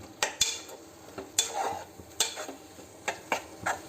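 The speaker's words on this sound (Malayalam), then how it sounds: "ശർക്കരയും തേങ്ങയുടെ ഇട്ട് മിക്സ് ചെയ്യാം" A spoon stirs jaggery and grated coconut in a pan for a sweet curry, making a run of scraping strokes with sharp clicks against the metal, close up over a faint sizzle with no voices.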